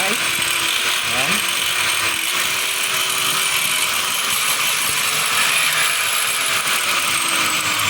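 A faulty DeWalt DWE8200S 4-inch angle grinder runs roughly with a high, gritty whine that wavers throughout, close and loud.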